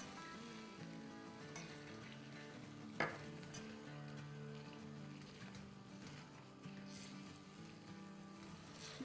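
Potatoes fry with masala in an oil-filled pan for a vegetable pulao, giving a steady, moderate sizzle and occasional stirring under continuous background music.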